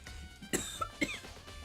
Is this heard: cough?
yes